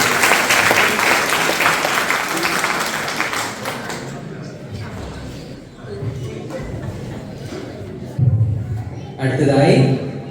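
Audience applause at a silver jubilee anniversary celebration in Rome: a burst of many hands clapping that fades over the first few seconds, giving way to voices talking and a few scattered claps near the end.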